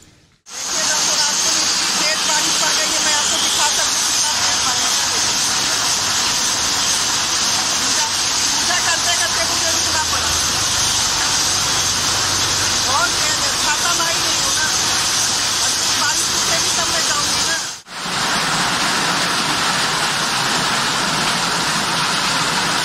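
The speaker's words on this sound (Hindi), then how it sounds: "आप देखिए कि बारिश कितनी तेज थी" Heavy rain pours down in a steady, loud, unbroken hiss with a brief dip partway through; no voices rise above the downpour.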